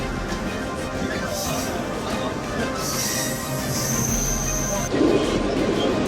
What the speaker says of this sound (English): Oh, here comes the train car.